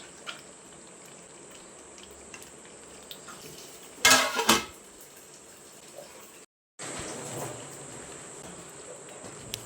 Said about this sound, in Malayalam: നല്ലതുപോലെ ഒന്ന് മിക്സ് ചെയ്ത് കൊടുക്കാം ഇനി ഇതൊരു അഞ്ച് മിനിറ്റ് ഒന്ന് അടച്ച് വയ്ക്കാം